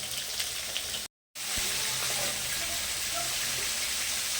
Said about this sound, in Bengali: আগে আমি পেঁপের জন্য আলুটাকে ভেজে নিচ্ছি।